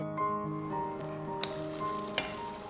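Eggplant sizzling in a pan over a medium flame, a steady soft crackle and hiss with a few sharper pops, close and unaccompanied by speech.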